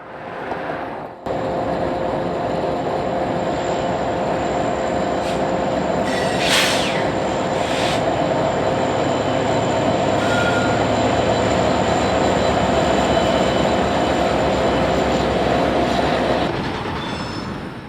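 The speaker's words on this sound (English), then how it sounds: "returning to Kankakee behind a reactivated and since unactivated and stored SD-70M-2" A Norfolk Southern SD70M-2 locomotive hauling a train past in northwest Indiana, a loud, steady rumble of rolling wheels and engine drone with faint wheel squeal and a brief high screech, lasting throughout before easing off at the end.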